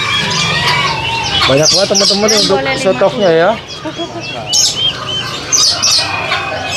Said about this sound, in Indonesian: Jadi lovebird di sini juga ada nih.